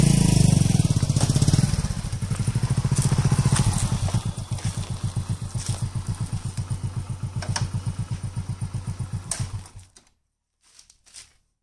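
A motorcycle ridden on a cold, windy day gives a steady, close, rhythmic engine thrum, with heavy wind rush at the start, before it cuts away to near silence.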